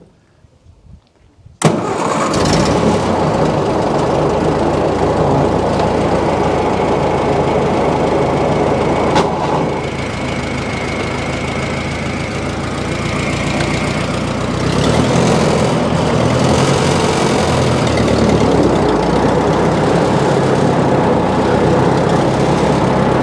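The engine of a 1946 David Brown aircraft tug turns over and fires up abruptly, then settles into a steady, loud, rumbling idle that continues without a break, close by with little talk.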